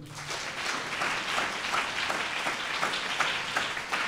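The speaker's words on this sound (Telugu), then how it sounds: "ఒకసారి గట్టిగా చప్పట్లు కొట్టండి" A sermon audience applauds loudly, a dense, continuous wash of many hands clapping at once in a large hall, steady throughout with no talk.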